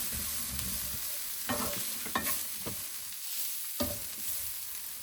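Flour is stirred into a sizzling pan mixture, giving a few soft scraping strokes over a low, even frying hiss, quiet and close.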